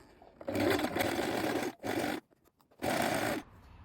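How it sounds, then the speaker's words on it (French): A sewing machine stitches 2 mm from the edge of a dress's ruffle and lining with a lengthened stitch, whirring loudly and close in three bursts separated by brief pauses. "Donc vous allez coudre à 2 mm du bord."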